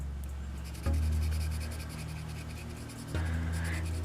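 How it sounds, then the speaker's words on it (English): Colored pencils rub and scratch across paper in a steady, soft, close texture, quiet and continuous over a low background hum. "I'm going to use my color pencils"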